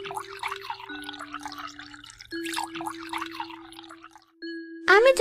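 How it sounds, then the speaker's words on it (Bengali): Date palm juice is poured into a small clay pot in a cartoon, heard as light drips and trickles over sustained tonal music, ending in a bright rising flourish. "ওর হাড়িতে একটু রস ঢেলে দে"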